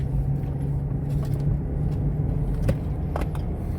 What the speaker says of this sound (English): It's a little bit of a vibration. Yeah, which was not there before. It's like one of my tires is flat spotted.